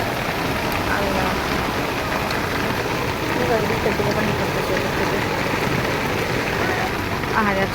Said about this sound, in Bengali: বৃষ্টি না কমে মনে বৃষ্টি আরো বেড়ে যাইতেছে, পরিমাণ বৃষ্টি পড়তেছে।